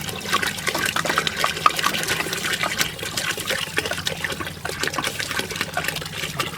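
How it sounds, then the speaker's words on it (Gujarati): Water poured into a cooking pan over green chickpeas sautéed in oil, while making a Gujarati green chickpea curry: a steady, continuous splashing trickle that runs the whole time without a break, close and fairly loud, with no talking. "પછી આપણે પાણી એડ કરીશું પાણી આપણે ચણા ડૂબડૂબા રહે એટલું એડ કરવાનું"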